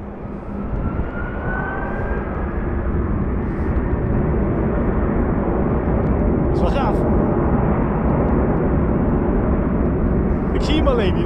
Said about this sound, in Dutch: In de verte hoor ik al wel het gezoem van het opstarten van die motoren.